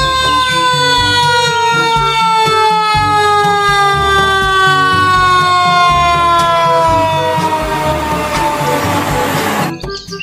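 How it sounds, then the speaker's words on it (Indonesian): Toy fire truck siren wailing loud and close, a continuous electronic siren tone with harmonics that glide slowly downward over a rhythmic buzzing beat, then cutting off at the end. "Yang ini ada mobil pemadam kebakaran."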